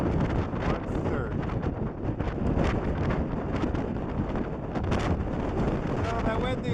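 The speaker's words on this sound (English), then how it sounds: "Oh, that windy up here." Strong gusting wind on an open mountain trail beside a lagoon in Torres del Paine, buffeting the microphone as a steady, loud broadband roar with rumbling low end throughout, with faint footsteps or movement beneath.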